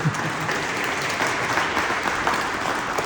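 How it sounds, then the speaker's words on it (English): Audience applause at a Vijayadashami 2023 presidential address, honouring the speaker's wife: steady, dense clapping from a crowd, close and sustained throughout with no talk over it. "So can you please also give a round of applause for my wife,"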